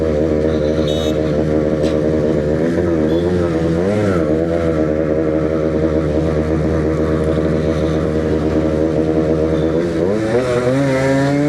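A Suzuki Shogun motorcycle engine runs steadily and loud at close range, its note rising and falling through several throttle blips and revs, with no talking over it.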